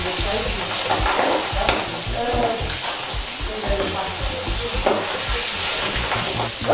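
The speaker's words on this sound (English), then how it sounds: "When you put catfish in very hot oil, it helps to make it fry very well" Catfish pieces fry in very hot oil with a loud, steady sizzle and crackle, joined by stirring scrapes and occasional pops.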